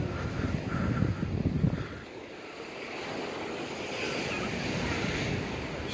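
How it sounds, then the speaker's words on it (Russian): Sea surf washes steadily along a winter beach promenade at Massandra beach in Yalta, with soft wind noise over the microphone and a continuous, moderately quiet wash of waves and no voices. "мы сейчас прогуливаемся с вами по набережной Масанровского пляжа"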